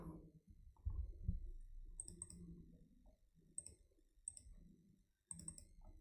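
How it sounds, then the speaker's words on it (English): Mouse clicks on a computer while importing a data set into Power BI: a few quiet, sharp clicks spaced apart in an otherwise still room. "let's start by loading the data set, clicking on import."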